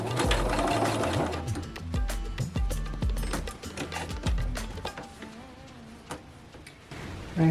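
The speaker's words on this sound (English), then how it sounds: "And then I can go ahead and sew this piece to the top." A sewing machine runs steadily while stitching quilt pieces, a fast mechanical whir with rapid needle ticking that slows and stops near the end.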